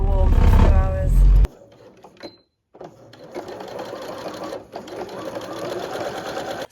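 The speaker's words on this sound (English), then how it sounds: "I'm just sewing this like edging onto it called bias binding" A sewing machine stitches bias binding edging onto fleece window coverings inside a van on a freezing Dartmoor morning, a loud whirring run after a short burst of other noise, with a brief pause before the motor continues steadily.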